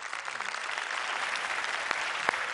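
Audience applause breaking out after a poem recitation at a televised poetry competition, a dense steady wash of many hands clapping throughout, with a couple of sharper individual claps standing out near the end.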